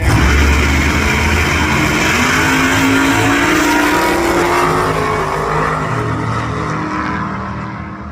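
A supercharged 416 Holden HJ Monaro race car roars down a drag strip, a loud sustained engine blare with a rising whine that fades as it pulls away into the distance.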